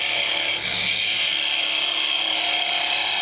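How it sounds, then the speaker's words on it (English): Wood lathe gouge riding the bevel as it cuts into spinning wood while turning a drink cover, a continuous loud hissing, rasping shear at close range, steady throughout with no talk. "So I'm just riding the bevel of the tool, and letting it just dip into the wood."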